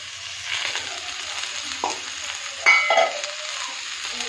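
Spice paste with turmeric, salt and ground cumin fries in a pan for a Bengali bottle gourd greens dish, giving a low steady sizzle with scattered scraping stir strokes and a couple of louder clatters near the middle.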